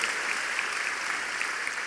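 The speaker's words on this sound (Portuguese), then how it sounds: "Vocês deviam dar um aplauso a Jesus" Applause from a church audience at a missionary conference, a steady wash of many hands clapping at moderate level for the whole stretch, with no voices over it.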